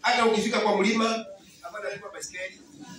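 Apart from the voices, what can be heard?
No distinct noise like a dog, phone or traffic.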